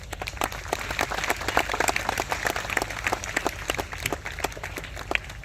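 An audience at a religious katha gathering breaks into applause, a dense patter of many hands clapping steadily for several seconds at moderate distance, with faint crowd murmur beneath.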